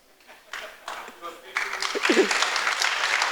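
Audience clapping at a Python programming conference talk, building from a few scattered claps into a louder spread of applause, with voices mixed in.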